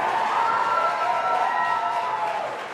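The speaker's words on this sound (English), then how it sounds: "some major cheering going on here as every stage of this test unfolds" A distant crowd cheers and applauds as a SpaceX Falcon 9 in-flight abort test unfolds and the Dragon capsule's drogue chutes deploy, a broad, steady roar that fades slightly toward the end.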